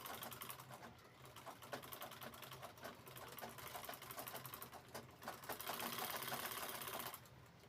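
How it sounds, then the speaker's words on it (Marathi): A sewing machine stitches a new style of fabric bag with fast, steady mechanical clatter, running continuously with brief pauses, close and alone without talk. "दुसरी साईड पण अशी शिवून घ्यायची आहे"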